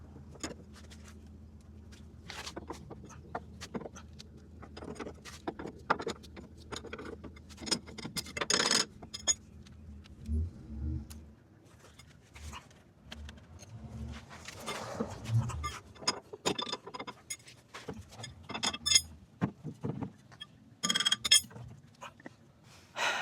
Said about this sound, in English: time to remove these castle nuts